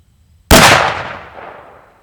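A single 300 Win Mag rifle shot fired into a solid concrete cinder block outdoors, one sharp, loud crack after brief silence, trailing off into a long decaying echo.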